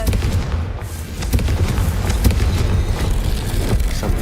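Confringo, a blasting spell from the Hogwarts Legacy video game, goes off as a loud, sustained explosive roar with crackling bursts layered over it, dense and close, lasting several seconds without a pause.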